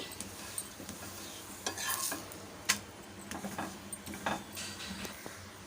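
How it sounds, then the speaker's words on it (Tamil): A chapati of wheat flour and tomato cooks in ghee on a pan, with a steady soft sizzle broken by repeated scrapes and clinks of a spatula as it is moved and turned, close up and without speech. "அடுத்த சைடு திருப்பி போட்டுடலாம் அதுலேயும் வந்து நம்ம கொஞ்சம் நெய் சேர்த்துக்கலாம்"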